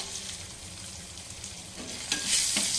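Curry leaves and asafoetida crackle and sizzle in hot oil for a bottle gourd chutney tempering, a steady close hiss with a few sharper pops near the end and no talk.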